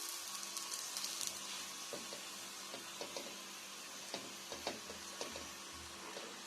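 A moong dal paratha fries in oil on a pan, giving a soft, steady sizzle with scattered small crackles and pops, quiet and unaccompanied by talk.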